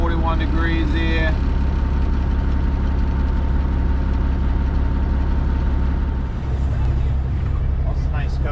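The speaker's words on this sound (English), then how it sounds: "Just letting the truck warm up." An Aerodyne cabover truck engine idles steadily as it warms up on a 41-degree morning, a constant deep low rumble throughout, with faint other sounds late on.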